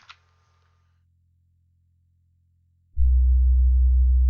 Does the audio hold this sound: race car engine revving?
no